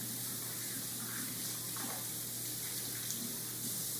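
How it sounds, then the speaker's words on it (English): Hands rubbing together under a running tap, a steady close hiss of water flowing into a sink that holds evenly for the whole stretch with no talk over it. "Stick your hands under, rub them together, and keep rubbing until they're all clean."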